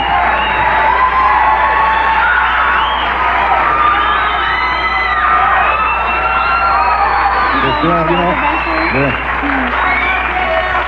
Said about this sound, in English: They're still cheering the monologue